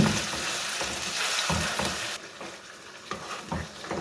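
Garlic ginger paste fries in a pan for chana dal, giving a steady hissing sizzle with soft scraping stirs breaking through at intervals, close up and without speech.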